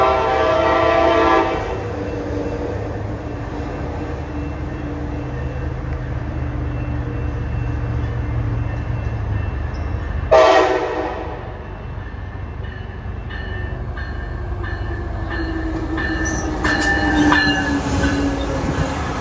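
Amtrak and NCTD Coaster trains passing near Carlsbad, California: a loud, steady rumble of rail cars and wheels close by, with a sharp burst of horn near the middle and a later stretch of tonal horn and squealing wheels.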